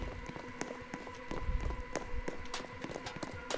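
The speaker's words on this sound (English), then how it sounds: "The moment I heard footsteps, I thought I was gonna die." Rapid, irregular footstep taps from a Roblox video game, a busy patter of steps running continuously at close range with no talk.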